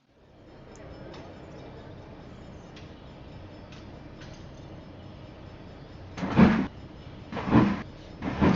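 A steady low rumble of a train in the video game Train Driver Journeys rolls on, joined near the end by a few sharp rhythmic clacks, with no one speaking.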